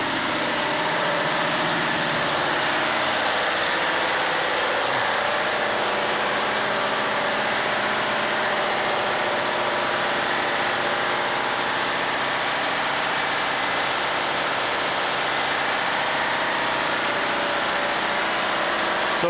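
Twin Ruston marine diesels of 1,180 horsepower each run steadily inside the engine room of an 81 m ice-class explorer yacht, a constant broadband drone and vibration with no breaks or voices.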